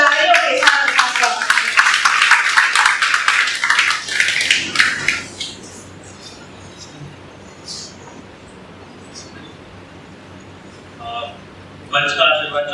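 An audience claps for a speaker called to the stage at a Hindi literary event, a dense burst of applause for about five seconds that fades, followed by a quiet room and a few faint sounds.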